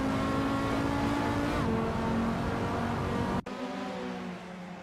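A 1991 Honda Civic Si R2 engine drones steadily in a racing video game, a constant loud hum with harmonic tones that dip briefly before the engine note resumes at a slightly lower level.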